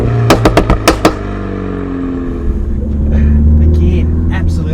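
MINI 5-door Carbon Edition exhaust firing a rapid string of about six loud pops on overrun, close and punchy, followed by a smooth engine drone with talking underneath.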